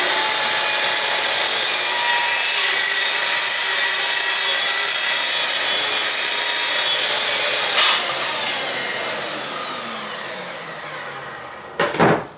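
Festool saw cutting an angled cut through wood clamped against a fence, a steady loud whining cut lasting several seconds before the blade spins down, ending with a short clunk.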